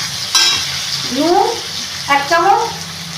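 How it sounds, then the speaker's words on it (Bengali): Chopped green chilli, onion and tomato fry in hot oil as they are stirred, producing a close, bubbling sizzle with a couple of scraping stirs while someone speaks over it. "ভাজা ভাজা হয়ে যাচ্ছে।"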